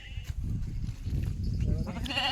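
A sheep bleats near the end as it is held down for vaccination, over a rough, rumbling outdoor background, with faint shuffling noise throughout.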